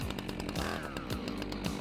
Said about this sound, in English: back to the familiar whine of power tools